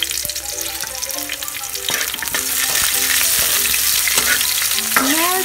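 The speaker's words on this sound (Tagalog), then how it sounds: "Sinadya ko talaga na medyo nasusunog yung bawang." Garlic sizzling and frying in a pan, a loud continuous crackle close up, with a few scraping stirs and a brief squeak near the end.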